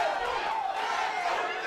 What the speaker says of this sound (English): I'm not sure how Scoggins can hear anything, any type of advice from his corner over this crowd noise